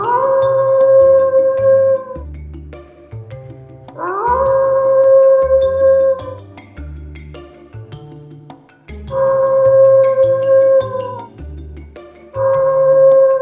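A fox howl plays from a tape recorder hidden in bushes outside a house at night, coming as several long, wavering, tonal cries separated by short pauses, loud and alone.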